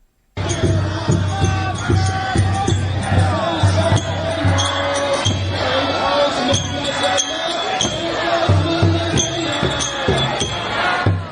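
Crowds fill the streets of Iran celebrating a ceasefire, a dense roar of many voices with shouts and rhythmic chanting, continuous and loud throughout with a steady low thumping underneath.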